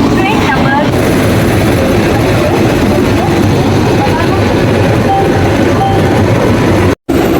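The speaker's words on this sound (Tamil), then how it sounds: "நம்ம ட்ரெயின் 2266ங்க, உதய் எக்ஸ்பிரஸ் கிளம்பியாச்சுங்க." A loud, steady rumble of the Uday AC double-decker express train departing Coimbatore, with dense low mechanical roar and rattling that holds constant throughout.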